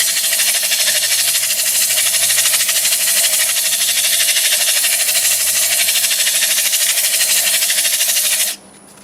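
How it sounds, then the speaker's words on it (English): A sheet of sandpaper scrubs the inside of a cherry wood bowl on a lathe, making a loud, steady, even hiss that runs unbroken and then cuts off abruptly near the end. "I'm going to sand the inside with just a sheet of paper like this."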